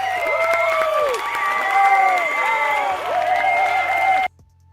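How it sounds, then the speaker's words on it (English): A group of people cheering and clapping during a live day-trading session, with loud whoops and shouts at a steady level before the sound cuts off abruptly. "Let's clap it"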